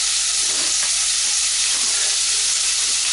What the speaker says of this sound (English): The reason we fry it first is it creates a textural element within the rice itself, and it also enhances the flavour.